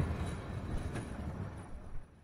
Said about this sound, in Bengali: আমাদের ট্রেন ছুটে চলেছে মাঠঘাট পেরিয়ে গন্তব্যের দিকে